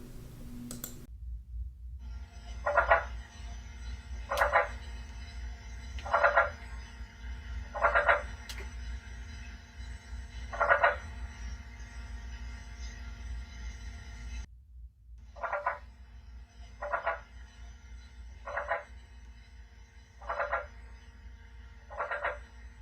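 Recorded frog calls play back in a quiet room for pet frogs, a regular series of short buzzy trills repeating every couple of seconds over a low steady hum, with a brief pause midway before the calls resume.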